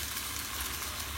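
Broccoli and shrimp stir-fry sizzles steadily in a pan as it is stirred with a cornstarch-and-water slurry, a dense close frying hiss with no voices.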